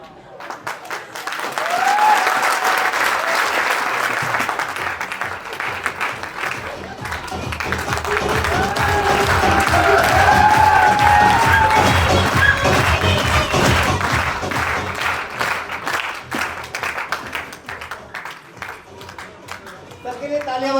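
A seated audience at a training session applauds for a long stretch, clapping swelling loud and steady, easing slightly, then rising again, with scattered voices and cheers mixed in.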